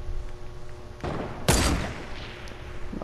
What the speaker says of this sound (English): they're also getting shot at by other people now